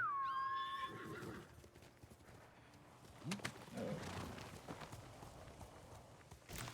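A horse in the video game Ghost of Tsushima gives a high, falling whinny at the start, followed by soft hoofbeats and snorts, quiet and slightly distant.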